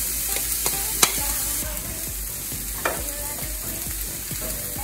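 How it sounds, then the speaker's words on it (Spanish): Onion and zucchini fry in a pan with a constant broadband sizzle, while a utensil scrapes and knocks against the pan in irregular stirring strokes. "Vamos a poner la cebolla."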